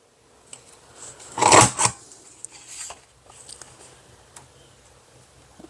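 A cutter draws a straight line through paper: one short, close scraping swipe, then faint ticks and rustles in a quiet room.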